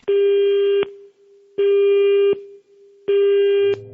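A telephone line rings out in three long, loud buzzing tones separated by short pauses, clean and alone, like a ringback tone heard through the handset.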